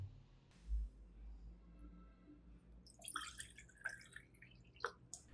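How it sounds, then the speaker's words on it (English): Liquid fertilizer drips and trickles onto the base and roots of an orchid, giving soft, close patters and splashes after a quiet start, with no talking. "Second way, you water the base and roots of the orchid."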